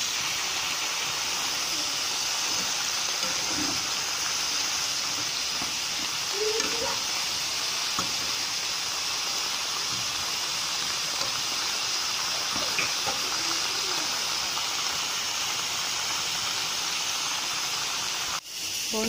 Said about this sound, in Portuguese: Agora eu vou adicionar as verduras. Tomate, pimentão, cebola, alho. E vou fazer o molhinho da minha carne.